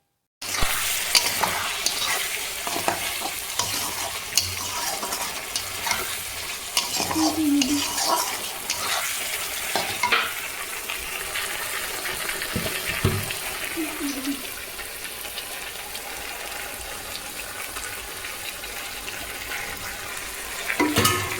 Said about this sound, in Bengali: এখন আমি ভেজে রাখা আলুর মধ্যে বেটে রাখা মশলাটা দিয়ে ভালোভাবে কষিয়ে নেব